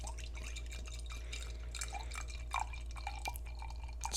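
Firestone Walker XV Anniversary Ale, a dark ruby-red beer, poured into a glass, giving a steady trickling liquid pour with small drips and splashes over a constant low hum, no talking.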